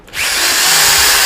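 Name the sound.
power drill running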